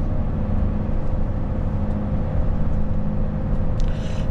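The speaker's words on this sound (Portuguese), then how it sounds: "A eficiência do freio motor tá aí, ó." A vehicle's engine brake engaged at two thousand RPM, a steady loud droning rumble that holds evenly throughout, close and continuous, with no speech over it.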